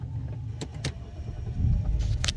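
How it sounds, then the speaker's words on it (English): Push-button start of a 2007 BMW 325i coupe with a 3.0 petrol engine and automatic gearbox: a few clicks and whirs, then the engine turns over and settles into a low, steady idle nearby. "Let me just grab the spare key out of this pack and I'll fire the car up for you."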